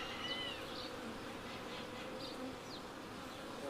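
Honeybees at an open hive near the queen, a dense steady buzz with wingbeat whines rising and falling close by, continuous and fairly faint.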